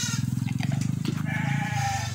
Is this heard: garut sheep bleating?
yes